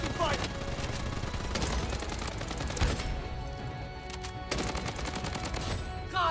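Bloodstrike game gunfire rattles almost continuously, with rapid bursts and sharper single shots layered over a busy combat mix and some voice chatter.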